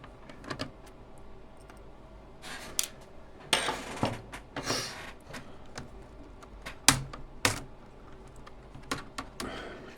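Plastic clicks, snaps and rattles come from a Dell Studio 17 laptop as its keyboard is pried loose and lifted out, irregular bursts of sharp ticking and scraping with quiet pauses between them.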